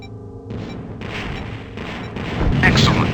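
Booming missile explosions destroy a cargo container in the TIE Fighter space combat game, heavy rumbling blasts swelling in a few waves and growing louder toward the end, alone without talk.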